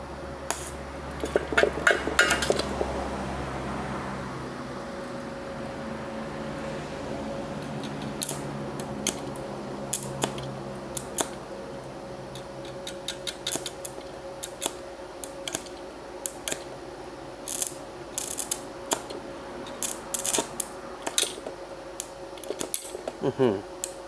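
Spot tack welding with a compact mini inverter welder, set around 400: short, sharp crackling bursts and clicks come in irregular clusters, fairly close and alone, over a faint steady hum.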